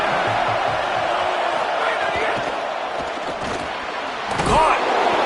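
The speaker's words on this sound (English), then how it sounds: "The crowd getting behind this defense as they try to get a stop in the red zone." Stadium crowd roars steadily for the defense during a Texas A&M college football game, the defense trying to stop a red-zone drive, a broad sustained cheer with a commentator talking over it.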